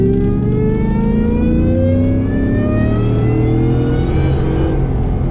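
A 700 HP Shelby F150 Tonka Edition pickup truck engine revs loudly and close up, its note rising steadily as it accelerates hard with no talk over it.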